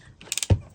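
A Ryobi 18V crown stapler set to minimum power drives a staple into oak: a few quick mechanical clicks, then one solid, close thump, all over in under a second.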